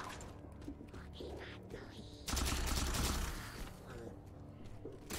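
Carbine rifle fire in the video game Halo 4, a dense burst of rapid shots erupting midway and lasting about a second over a steady ambient game background.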